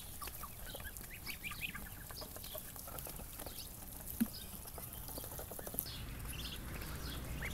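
Muscovy ducks of a heavy French-selected line on a poultry farm give faint, scattered low calls and soft clucking over a quiet, noisy outdoor background, with one or two brief sharper sounds.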